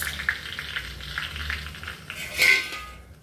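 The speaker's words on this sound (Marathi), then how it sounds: "तूप किंवा तेल दोन्हीपैकी काही घाला." Ghee or oil sizzling in a hot pan while making mushroom masala, a steady soft frying hiss with a brief louder crackle near the end and a light clink of utensils.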